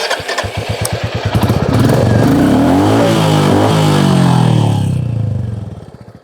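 A new 2024 Royal Enfield Classic 350 with about 460 km on it and its stock silencer idles with a close thumping beat, then revs up and holds a loud rising-and-falling drone before settling back down.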